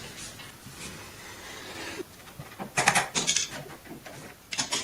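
Old skirting board being pried and pulled off a wall during radiator removal, giving a few scraping, cracking and clattering bursts of close work, louder toward the middle and end, with no talk.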